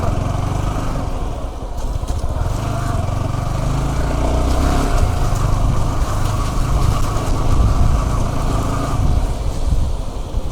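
Yamaha R15M motorcycle engine running at a steady idle-like rumble, close and continuous for about ten seconds, with a slight rise midway and no speech.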